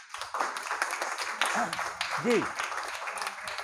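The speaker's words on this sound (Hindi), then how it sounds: "तो इस बात के लिए आपको अपनी हिंदी भाषा के लिए तालियां बजानी चाहिए" Students applaud at a Hindi fortnight event, a brief patter of clapping mixed with talk and a voice speaking over it.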